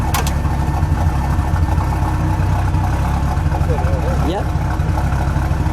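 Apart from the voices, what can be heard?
1980 Ford Fairmont Futura Turbo four-cylinder engine idling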